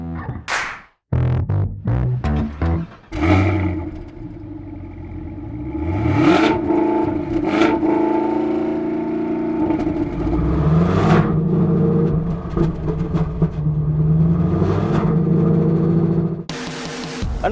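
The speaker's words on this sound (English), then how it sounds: "I'll fire it up for you and you'll find out why." A 2016 Cadillac CTS-V with a supercharged 6.2-liter V8 cranks and fires up loudly, then rises and falls through several deep, throaty revs and settles into a rumbling idle close by.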